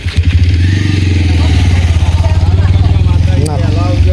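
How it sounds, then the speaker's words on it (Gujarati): A motorcycle rumbles loud and close along a village lane during a Holi celebration, its steady engine throb mixed with voices of people talking nearby. "જોજો બાઈક"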